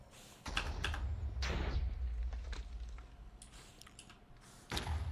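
Computer keyboard typing during a Minecraft game stream: bursts of loud, close clacking keystrokes in quick irregular runs, with brief pauses between them and no voices.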